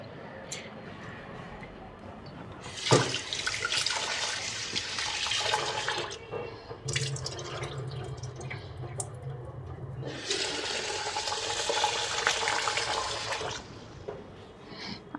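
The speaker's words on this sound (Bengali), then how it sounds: "ভালো করে চালটা ধুয়া নিতেছি" Rice is washed in water in a home kitchen: running water pours and splashes in two long bursts, with swishing and sloshing between them, close and fairly loud.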